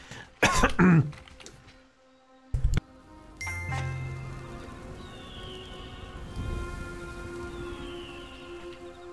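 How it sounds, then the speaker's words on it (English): A person breaks into a coughing fit, giving two loud harsh bursts of close coughs separated by a pause, over the quieter tones and chimes of Blade & Soul game audio that keep playing afterward. "Sorry, ran into a random coughing fit there."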